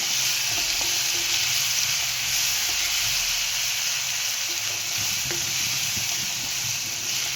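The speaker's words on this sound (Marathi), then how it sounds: "आपण आता ह्याच्यात मिरचीचा ठेचा टाकून घ्यायचा याला पण चांगलं आपण तळून घेऊया" Crushed green chili thecha frying in hot oil with garlic and turmeric gives a loud, dense, continuous sizzle and hiss up close, steady for the whole stretch with faint occasional stirring taps and no talking.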